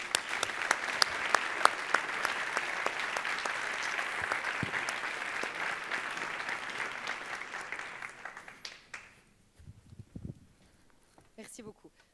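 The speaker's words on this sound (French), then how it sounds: "je vous demande d'être illuminé dans vos applaudissements pour Alicia Lepage" An audience at an engagement festival claps steadily for several seconds, a dense crowd applause that fades out, leaving a few faint scattered sounds and near silence.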